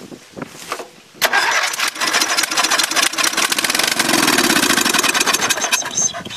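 A small Dynamark engine, sprayed with starting fluid, cranks a few times, then catches and roars to life, running loud and ragged with a sputtering, uneven idle.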